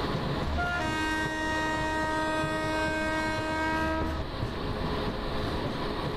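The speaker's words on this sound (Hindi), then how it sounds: "साउथ ईस्टर्न रेलवेज के एक EMU लोकल को हम लोग ओवरटेक मार रहे हैं" A Digha-Howrah Super AC Express train on South Eastern Railway overtaking an EMU local, with a loud sustained horn blast lasting several seconds over steady rumbling wheel and track noise.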